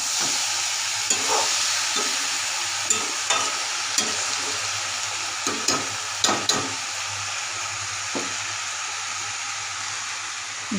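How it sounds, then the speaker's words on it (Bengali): Cabbage curry being stirred in a pan on the stove, a spoon scraping and knocking against the pan in scattered, uneven strokes over a steady low sizzle, close and fairly quiet. "মিনিট পর এসে ঢাকা খুলে আবার নাড়িয়ে দিলাম।"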